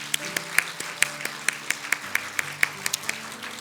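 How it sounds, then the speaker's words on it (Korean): A church congregation claps in an even, rhythmic beat alongside soft sustained music tones, the sharp claps repeating steadily for a few seconds. "우리 따뜻한 마음으로 감사의 마음과 또 축복의 마음을 담아서 박수 같이 하도록 하겠습니다."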